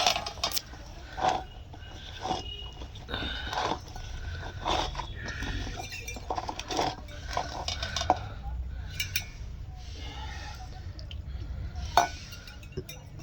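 A spoon scrapes and clinks against a pan while cauliflower chilli masala is stirred, in repeated irregular knocks and scrapes up close, with brief talk between them.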